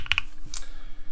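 Typing on a mechanical keyboard fitted with lubed NK Cream switches, a few soft clicks and muted keystrokes at close range, fairly quiet, with no talking.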